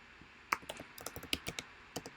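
Quick bursts of typing on a computer keyboard, a dozen or so sharp close key clicks at an uneven pace, fairly quiet, with no speech.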